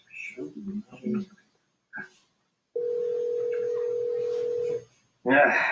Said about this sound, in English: I'm going to call Ron